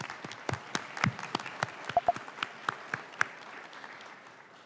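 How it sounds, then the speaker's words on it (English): An audience claps in a spirited burst of applause, sharp individual claps standing out over the steady patter of many hands. "please give them a round of applause"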